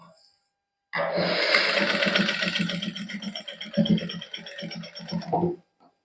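A sewing machine stitches lace onto a plain suit in a tailoring boutique, a close, steady rattling run of about five seconds that slows briefly before stopping.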